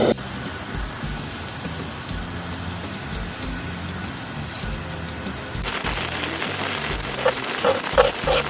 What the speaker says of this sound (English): I want to fry them.